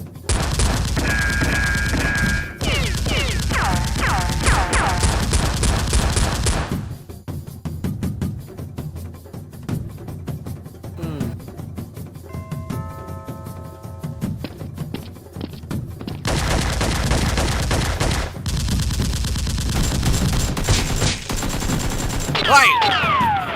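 Rapid bursts of gunfire ring out in a Nerf gun war, loud clustered volleys separated by a quieter stretch with scattered shots, with voices heard briefly.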